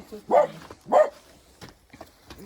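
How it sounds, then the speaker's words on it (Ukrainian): A dog outdoors in snow barks twice in quick succession, loud and close, followed by a few softer, fainter yips and noises. "Що ти Дашка гавкаєш?"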